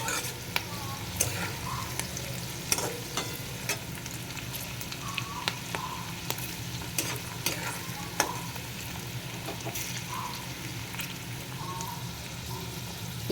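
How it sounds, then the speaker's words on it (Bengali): Onion and capsicum for chowmein fry in a pan with a soft, steady sizzle, broken by occasional scraping stirs. It stays fairly faint and even throughout. "এটাকে ভেজে নেবো একটু খানিকক্ষণ।"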